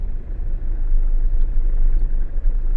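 An overland vehicle drives across the hard surface of Botswana's Ntwetwe salt pan, giving a loud, steady low rumble of engine and tyres close by, with no talk.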